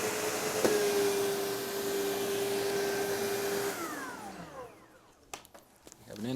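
A SEBO Automatic X4 upright vacuum cleaner runs with a loud steady whir and a high motor tone, then winds down with a falling pitch and shuts off, followed by a few clicks and the motor starting again; a voice speaks.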